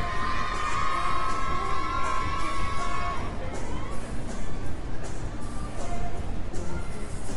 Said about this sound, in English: You can hear the French crowd in the background